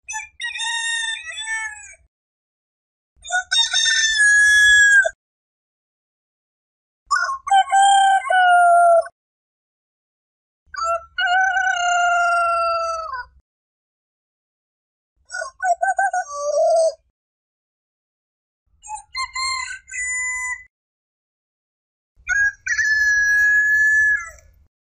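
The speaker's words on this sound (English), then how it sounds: "A rooster goes." A rooster crows seven times in a row, each loud, drawn-out cock-a-doodle-doo separated by a short pause, clear and close with no talking.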